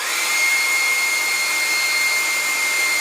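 A hair dryer blows steadily and loudly on a canvas door tag during a craft project, a constant close whoosh with a thin high whine and no breaks.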